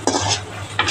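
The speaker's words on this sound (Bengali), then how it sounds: "গোলাপ জামুনের কালার আসা পর্যন্ত আমি এটা হালকা আছে ভাজতে থাকবো" Gulab jamun made from flour and milk powder frying in a pan while being stirred, with scraping strokes and a steady low sizzle across the short stretch, and no voices.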